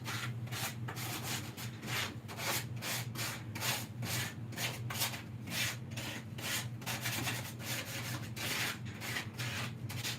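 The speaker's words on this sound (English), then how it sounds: "That is the kind of sanding you need to do." Light hand sanding of previously painted wood furniture, close up, with quick rhythmic back-and-forth rasping strokes repeating steadily and alone throughout.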